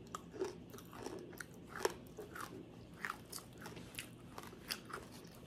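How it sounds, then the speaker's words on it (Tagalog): Crisp, repeated crunching bites and chewing of fried fish with sautéed ampalaya (bitter melon) at a close-up Filipino mukbang meal, steady and near with no talking. "Habang kumakain ka, maingan ka parang mani."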